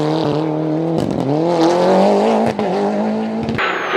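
Suzuki Swift R Plus rally car driving hard on a rally stage, a loud close engine whose pitch climbs through the gears, broken by brief shift drops and a short gap near the end.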